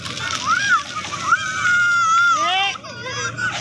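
Water from a fountain at Dubai Global Village splashes steadily and close by, while children's voices and excited speech carry over the spray.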